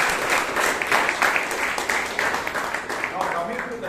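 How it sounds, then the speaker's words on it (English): An audience at a Toastmasters meeting in Bangalore applauds steadily for about four seconds, a dense wash of clapping heard from inside the room. "please give Bhavana a huge round of applause."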